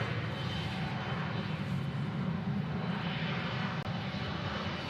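A Delta Connection Embraer E175LR jet bound for JFK departs Nashville International Airport with a sustained, evenly loud engine roar that fills the short stretch on its own.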